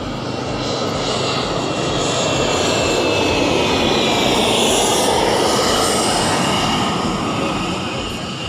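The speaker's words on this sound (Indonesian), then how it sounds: "pesawat lewat berisik" A fixed-wing airplane roars overhead, a loud, broad rumble that swells to a peak midway and slowly fades, steady throughout with no talk.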